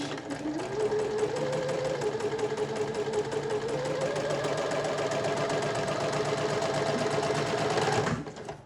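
A sewing machine runs continuously as it back stitches with dark thread, a steady close mechanical whir lasting about eight seconds before it stops abruptly at the end.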